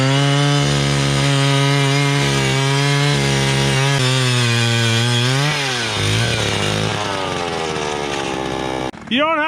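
A motorized ice auger drilling through very thick lake ice in bitter cold, its engine droning loud and close with a steady tone that wavers and bogs under load before cutting off near the end, a voice faintly under it.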